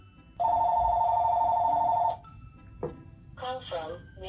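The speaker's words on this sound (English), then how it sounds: "And the phone's ringing." A telephone rings in one long, loud electronic burst lasting about two seconds, then cuts off as people start talking nearby.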